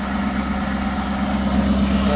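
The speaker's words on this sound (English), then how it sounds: "when you leave them idling for a little while, they bring the idle up to help heat up the diesel particulate filter" A 2017 Ford F-350 Platinum with the 6.7 diesel engine, S&B cold air intake and no delete idles steadily nearby, a loud, even low rumble with a constant hum and no talking.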